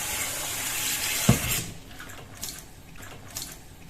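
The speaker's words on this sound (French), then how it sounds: "Il suffit d'imbiber la toile Infume Nature avec l'eau froide au robinet." Cold tap water running into a kitchen sink as a cloth is soaked, a steady hiss of flow with a brief splash, then quieter trickling, faint and close.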